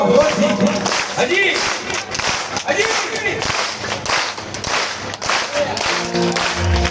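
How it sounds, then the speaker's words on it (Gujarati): A crowd claps hands in steady rhythm at a Gujarati devotional gathering for Meldi Maa, a dense, loud clatter running throughout with singing and voices over it. "તાળીનો અવાજ આવજો"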